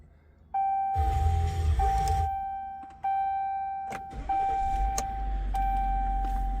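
In a 2015 RAM 1500 EcoDiesel truck, warning chimes ring repeatedly as the diesel engine cranks and fires, then settles into a steady, close, low running rumble.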